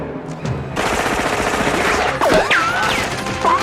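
Automatic gunfire rattles through a scene from the 1987 film RoboCop, a dense, loud burst of rapid shots with sharp ricochet-like whines toward the end and no one speaking.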